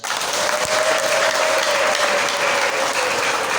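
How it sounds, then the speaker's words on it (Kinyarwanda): A church congregation claps in sustained applause at a testimony gathering, a dense, steady wash of many hands that stays loud and even throughout, with no talk. "Nimuyingerera amashyi."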